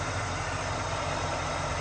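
A 1994 Chevrolet Impala SS engine idles smoothly after restoration work and a new alternator, giving a steady, close, unbroken rumble with no talking.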